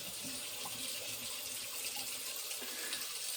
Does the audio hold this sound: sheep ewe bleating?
no